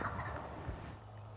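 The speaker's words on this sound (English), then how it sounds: "There's a turkey responding to the call" A wild turkey gobbles once in answer to a call, faint and distant under a steady outdoor background hiss.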